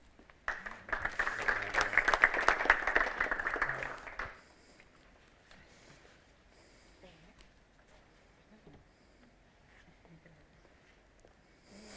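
Conference audience applauding as a presenter is introduced, a dense burst of clapping lasting about four seconds before falling away to quiet room noise with faint voices.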